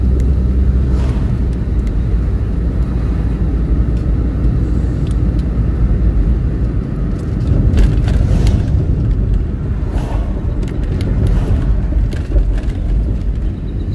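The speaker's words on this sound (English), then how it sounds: "we are driving on the back road" A car drives along a back road outside Portmore, St Catherine, its steady low engine and road rumble loud and close throughout, swelling a little near the middle.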